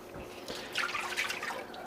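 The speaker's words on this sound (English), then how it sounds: "what I start with adding the water" Cold water poured into a wooden dough box for Neapolitan pizza dough, a short gurgling, splashing stream that swells after a moment and carries on steadily, close by, with nobody talking.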